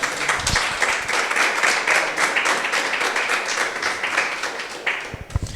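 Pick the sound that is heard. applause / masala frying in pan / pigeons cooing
applause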